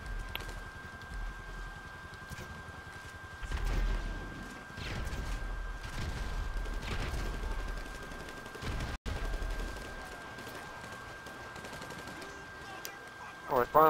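Gunfire in GTA Online crackles as scattered bursts over a steady game background hum, fairly quiet, with a brief dropout midway and a louder burst at the end.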